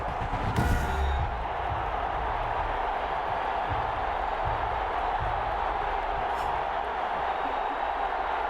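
Stadium crowd noise in the Madden NFL 21 video game at an Eagles versus Raiders matchup, a steady broad roar of spectators throughout with a brief louder swell near the start.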